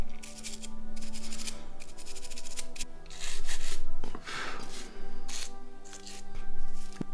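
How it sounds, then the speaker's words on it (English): A Sony Walkman MP4 model has its exterior cleaned by hand, heard as continuous close scrubbing and rubbing strokes in a steady back-and-forth rhythm with brief pauses, alone with no talking. "let the cleaning begin. Not too much to clean on this exterior."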